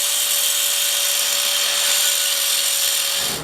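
Thick steel hitch piece being cut for an exhaust bracket on a turbo LS Mustang, a steady, loud abrasive grinding with a constant whine that runs unbroken for about three seconds, then stops.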